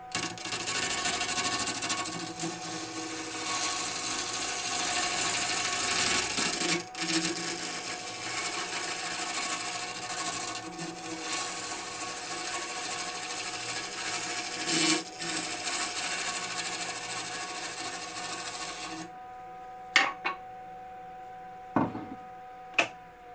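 A Bauer 14 x 20 EVS wood lathe spins a workpiece on a chuck back plate at about 800 RPM, giving a continuous raspy hum with occasional scraping ticks, then winding down into a few faint knocks near the end.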